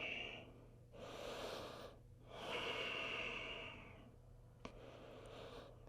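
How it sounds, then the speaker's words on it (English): Slow, deep breathing in a live yoga studio class during a forward bend with forehead toward the knee: several long, audible inhales and exhales close to the microphone, alone without talk, with a brief click near the end. "Breathe here."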